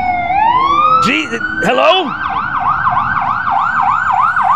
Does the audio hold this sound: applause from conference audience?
no